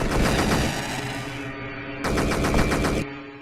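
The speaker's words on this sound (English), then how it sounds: "Our gun is quite loud." Bursts of rapid automatic gunfire from the player's weapon in the video game Au Sable, two loud sustained volleys with a short gap between them, echoing over low hum.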